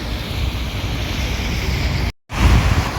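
Rainwater runs down from higher ground along a footpath at Masjid Nabawi in Madinah as a loud, steady rushing wash with wind-like noise, cut by a brief dropout before resuming.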